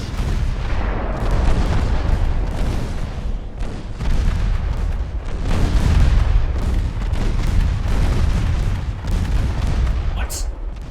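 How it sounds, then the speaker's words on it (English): Dense naval gunfire from warships in the naval strategy game Ultimate Admiral Dreadnoughts, a continuous rumble of overlapping booms and blasts, loud and sustained throughout. "they fire a single salvo"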